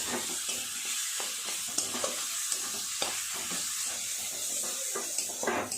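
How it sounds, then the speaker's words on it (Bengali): Chicken paste stirred and fried with spices in a pan, with a continuous close sizzle and steady scraping of a spatula in irregular strokes. "একটু সময় নিয়ে এইভাবে মশলার সাথে চিকেনের পেস্টটাকে নেড়ে চেড়ে তৈরি করে নিতে হবে।"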